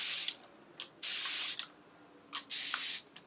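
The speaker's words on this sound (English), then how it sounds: "I just go ahead and spray it with some plain water." Several short sprays of plain water from a pump bottle onto hair, quick hissing bursts in an uneven rhythm, close by and crisp, with no talking.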